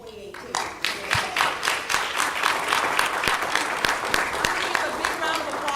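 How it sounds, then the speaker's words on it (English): An audience applauds panelists after a political organizing panel discussion, the clapping rising quickly into a steady, fairly close patter of many hands with crisp individual claps, while a voice speaks over it. "A big round of applause for all of our panelists"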